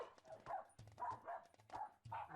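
Dogs named Lady and Fluffy bark in a rapid, close series of short yaps and yips, several in a row with brief gaps between bursts.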